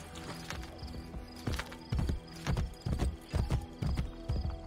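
Steady clip-clop of horse hooves in a rhythmic gallop in Assassin's Creed Brotherhood, close and fairly loud, with a faint whinny mixed in.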